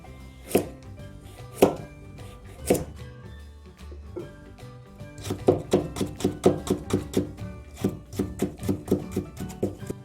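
A knife cuts carrots into thin julienne strips on a cutting board for Korean chive salad, giving quick rhythmic chops close up: a few spaced strikes at first, then a steady rapid run of taps.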